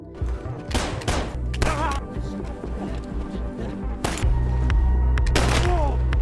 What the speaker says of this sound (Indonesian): lalu terjadi lagi aksi tembak-tembakan